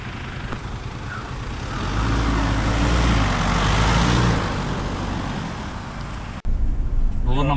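Steady road and engine rumble fills the cabin of a 2013 Ford Endeavour automatic SUV on the move, swelling slightly midway before a sharp click near the end.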